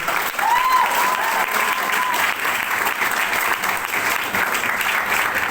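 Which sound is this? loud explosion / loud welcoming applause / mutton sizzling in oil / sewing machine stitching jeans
loud welcoming applause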